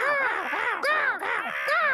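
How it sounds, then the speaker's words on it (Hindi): Cartoon crows caw in a quick series of harsh, drawn-out calls, four or so in a row, loud and close with no talking over them. "वो रहे कौवे"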